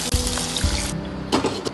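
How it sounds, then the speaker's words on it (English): A cup of water pours steadily into a wok for tomato soup, a loud, continuous splashing rush for about a second, followed by a few quieter drips and clinks. "Add 1 cup of water."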